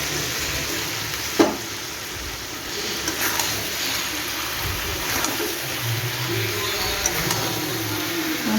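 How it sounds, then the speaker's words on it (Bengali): Duck meat cooking in released oil, with pre-fried potatoes added, sizzles steadily throughout, with a sharp clatter near the start and faint stirring scrapes, no voices. "মাংসটার মধ্যে দিয়ে দেবো আলুটা।"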